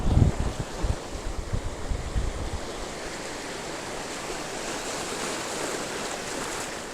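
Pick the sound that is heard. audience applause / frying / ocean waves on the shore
ocean waves on the shore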